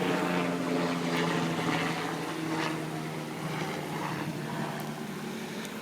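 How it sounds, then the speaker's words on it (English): A helicopter flying overhead gives a steady, fairly loud droning rotor and engine noise that holds throughout and fades slightly toward the end. "Sorry about that helicopter there."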